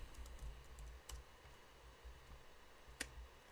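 Quiet typing on a dark computer keyboard in a dark room, a few soft scattered key clicks with one sharper tap near the end, over a low steady hum.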